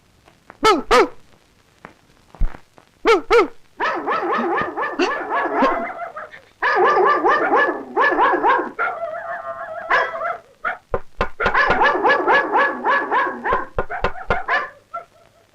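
A voice imitates a dog barking, giving a long run of loud, close yaps, barks and whimpering yips in quick bursts separated by brief pauses.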